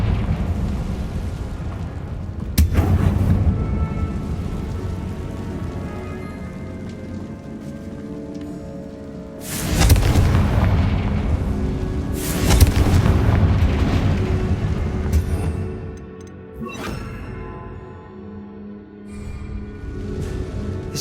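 A Confringo explosion spell blasts in Hogwarts Legacy inside a tomb, heavy rumbling bursts erupting around 2.5, 9.5 and 12.5 seconds with crackling debris and a long roaring tail over game ambience.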